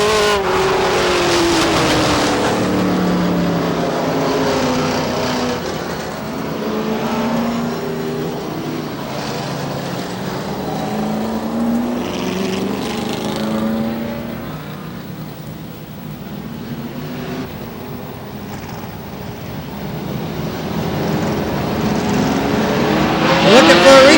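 Race cars roar around the oval at Star Speedway in New Hampshire, engines rising and falling in pitch as the pack sweeps past down the back straightaway, loud and continuous with occasional tire noise.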